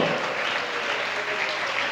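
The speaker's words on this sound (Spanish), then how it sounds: "Un aplauso a Jesús, hombre, que eso está bueno." A church congregation claps steadily through a Spanish-language sermon, a dense, even wash of hands filling the room for the whole two seconds with no voices over it.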